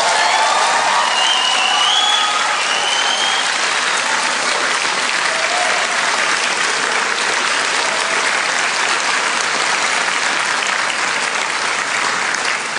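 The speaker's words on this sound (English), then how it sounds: "that was a decent round of applause, but can you give an even bigger one for your families and friends" A large graduation ceremony audience gives sustained, loud applause for families and friends, a dense wash of clapping with no break.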